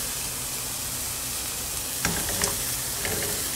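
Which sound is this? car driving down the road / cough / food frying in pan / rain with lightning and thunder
food frying in pan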